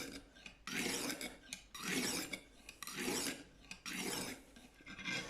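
A kitchen knife edge drawn across a coarse Lansky hone in steady, even passes, each stroke a loud, close grating rasp lasting about a second, separated by short pauses.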